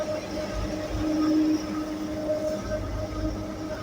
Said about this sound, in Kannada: ಕೂಡ್ಲಿಗೆ ಸ್ಟಾಪ್ 2 ಮೆಟ್ರೋ ಹೋಯ್ತು